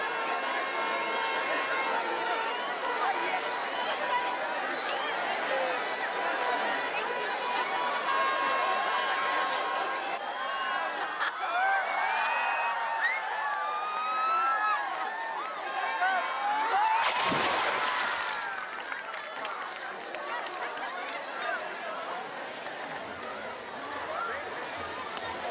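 A large crowd at a Timkat mass baptism celebration in Ethiopia roars and chatters in a steady, near wall of voices, swelling with excited shouts and a sudden splash-like burst midway before the din eases slightly.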